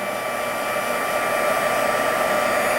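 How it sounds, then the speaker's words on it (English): A heat gun roars steadily and close up, a constant loud hot-air blast warming a stamped stained glass piece, with no talking over it. "you're going to heat this up till it looks wet"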